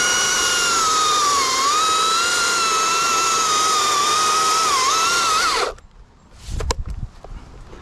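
Chainsaw making an underneath cut into a dead tree, a loud sustained high whine whose pitch wavers as the chain bites, then stops abruptly, followed by a few thuds and knocks.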